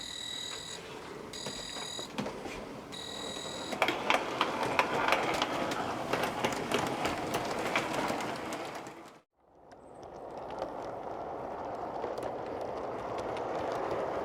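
A train runs on the Dunckley Northern Railway outdoors with a steady rumbling roll and clattering wheels. A repeated whistle-like tone sounds early, and the noise cuts out abruptly before resuming.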